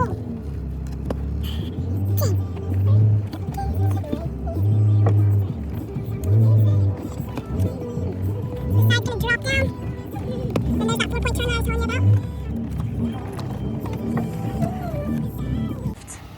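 A Jeep engine revs and labours on a wet off-road trail at Sand Hollow, a low rumble that rises and falls in surges while people talk over it.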